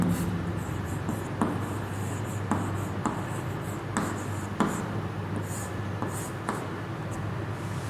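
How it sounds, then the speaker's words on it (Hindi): Chalk or marker scratching on a classroom board in short repeated strokes and taps, fairly quiet and close, with little talk. "एक मैं यहाँ पे लिख रहा हूँ"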